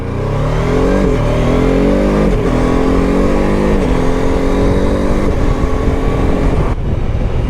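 A BMW F 450 GS motorcycle ridden off road through forest and sand, its engine droning loudly and steadily with rising and falling revs as gears shift, close up with no speech.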